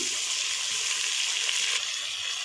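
A handful of fenugreek leaves frying in a pan with roasted onion and ginger-garlic paste, giving a steady, close, hissing sizzle that holds level throughout with faint stirring underneath and no talking.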